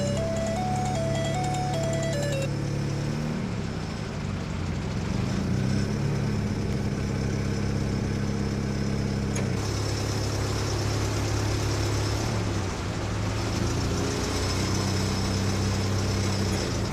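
A forklift mod in Bus Simulator Indonesia runs its engine with a steady droning hum that rises and falls in pitch as it revs, loud and continuous, with a brief higher-pitched tone near the start.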